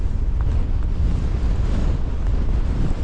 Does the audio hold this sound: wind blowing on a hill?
yes